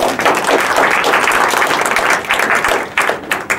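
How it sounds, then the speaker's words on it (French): A loud, dense round of applause from an audience honouring a student author at a reading of short writings about lockdown, steady clapping close up that thins slightly toward the end. "Est-ce qu'on peut applaudir Kendi, s'il vous plaît"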